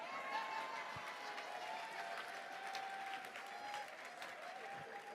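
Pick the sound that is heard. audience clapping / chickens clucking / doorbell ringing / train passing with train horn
audience clapping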